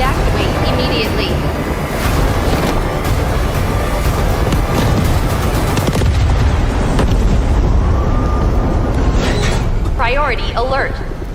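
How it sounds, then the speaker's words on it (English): Reactor hydrogen explosion in a nuclear-meltdown video game scenario: a sustained loud, rumbling roar fills the whole stretch, with synthetic alarm and announcement voices layered over the top. "Hydrogen explosion at Reactor 2."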